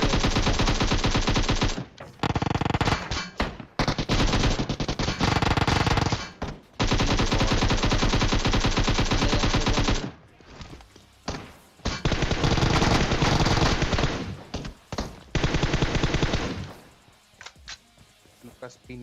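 Sustained bursts of automatic machine gun fire in PUBG Mobile on its new map, long loud volleys broken by brief pauses, with a voice talking faintly underneath.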